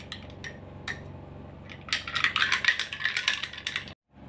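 A spoon stirs mint lemonade topped with soft drink in a glass. Scattered clinks come first, then a quick run of rapid metallic rattling against the glass before it stops abruptly.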